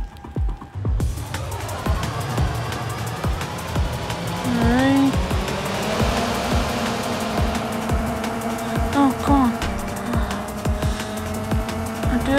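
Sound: cars racing in the video game Race The Masters

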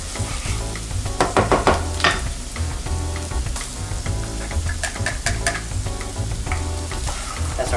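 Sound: onions sizzling while cooking in a pan

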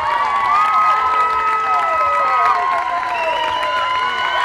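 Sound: audience applause and cheering

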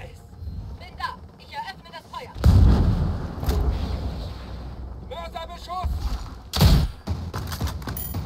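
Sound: explosion in Ghost Recon Breakpoint video game

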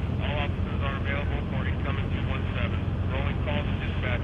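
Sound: helicopter flying overhead in The Walking Dead video game

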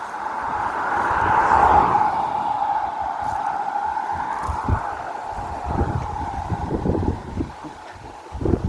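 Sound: wind rustling trees

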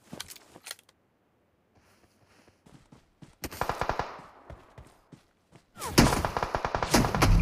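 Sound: gunfire headshot in video game BGMI

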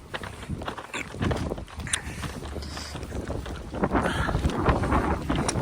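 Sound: strong wind

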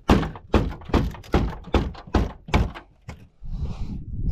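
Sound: stuck car door thumping

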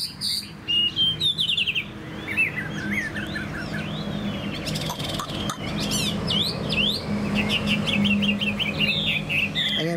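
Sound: Chinese hwamei songbird singing

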